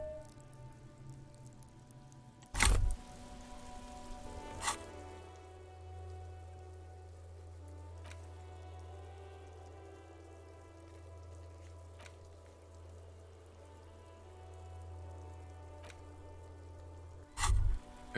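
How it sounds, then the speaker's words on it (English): Steady rain hiss falls over the great city of Rivershore in Disco Elysium, dripping from eaves and flooding gutters, with a low rumble beneath and a few sharp louder clicks at intervals. "All around you, rain falls on the great city of Rivershore. Rain drips from the eaves and floods the gutters"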